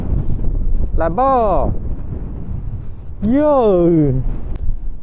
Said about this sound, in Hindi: और बड़ा गजब की हवा चल रहा है।